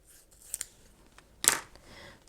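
Scissors trim a paper planner sticker with a couple of quiet snips early on, then one sharper, louder cut midway, against a near-silent background.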